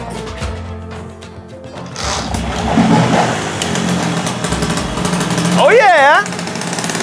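A Piaggio Ciao moped with a special cylinder and a holed exhaust is started, then runs with a raw, rattly putter close by while someone shouts and others talk over it.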